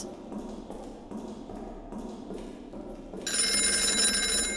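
A telephone rings in the video game Golgotha, a bright, trilling ring that cuts in loudly over a muffled, thumping background near the end, with no talk.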